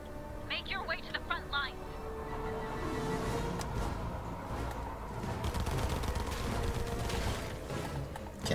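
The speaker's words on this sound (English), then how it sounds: "We're taking heavy fire." Heavy gunfire from a Fortnite battle keeps up almost without pause, mixed with explosions and crashes and spread over a busy game soundscape, with a brief electronic chirping near the start and voices now and then.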